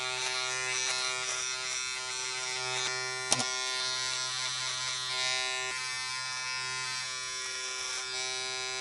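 A Ufree beard trimmer from a men's grooming kit with a detail trimmer head buzzes steadily and close up, a constant electric drone with one brief click partway through.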